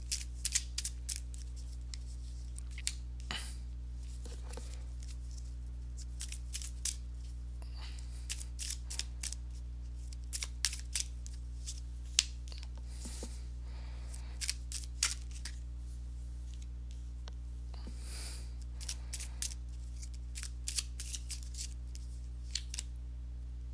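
Tarot cards are laid out one by one during a reading, producing soft scattered slaps, flicks and shuffles close by over a low steady electrical hum, with no talking.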